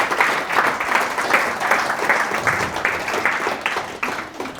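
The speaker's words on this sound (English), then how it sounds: "Can you just give him a quick round of applause before we run for questions" Audience at a business panel event gives a round of applause, a steady moderate patter of many hands clapping that carries on for several seconds without speech.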